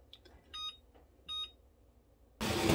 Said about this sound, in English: set your timer for 30 minutes